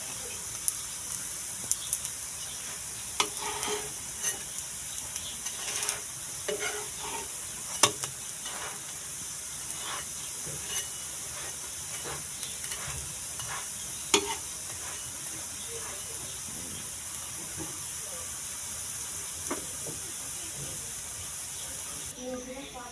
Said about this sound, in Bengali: এভাবে উল্টে পাল্টে লাল করে ভেজে নেব